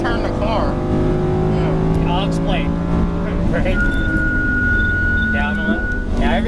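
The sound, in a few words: race car engine accelerating on track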